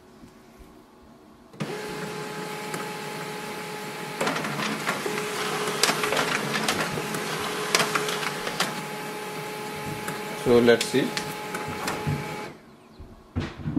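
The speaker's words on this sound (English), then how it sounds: "that's our printer." An HP LaserJet Pro 3001dw laser printer runs a print job, with a steady mechanical whir and hum that starts abruptly, carries on with clicks and clatters, and then stops. A voice speaks briefly.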